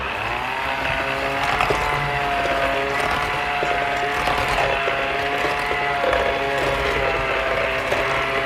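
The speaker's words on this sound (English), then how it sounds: "make sure your beaters are in there before you start mixing." A Flex Plus cordless hand mixer beating pumpkin pie filling in a bowl, a steady loud motor whine with a busy rattling churn running continuously and close.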